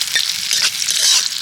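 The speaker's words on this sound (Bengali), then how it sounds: "পেঁয়াজটা হালকা ভেজে নিয়েছি।" Onion fries lightly in a pan, a brief, fairly loud, airy sizzle that holds steady with no voices.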